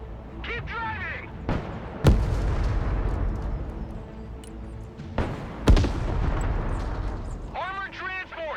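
Gunfire and artillery in the Broken Arrow combat game: two heavy booming impacts stand out over a continuous battle din, with radio-style voices talking throughout.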